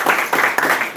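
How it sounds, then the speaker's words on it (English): Audience clapping at a London tech startup panel event, loud, close bursts of applause that swell and dip in quick waves over about a second. "Another round of applause"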